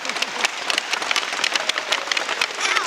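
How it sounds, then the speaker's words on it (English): An audience claps at a scholarship presentation, with many quick, crisp claps blending into lively applause that stays loud and close for about three seconds, no voices over it. "let's have a big round of applause for Kim Muir."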